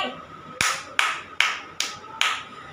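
Quick, evenly spaced taps from a kindergarten teacher setting a fast tempo for children to move to, five sharp knocks roughly every half second, close and clear with no voices.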